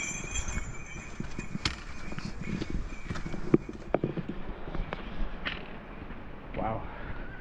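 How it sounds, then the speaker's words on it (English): Hooves clip-clop at a steady walking pace as horses come down a Himalayan trail near Ama Dablam base camp, with faint voices in the background and occasional sharper knocks. "Horses coming down."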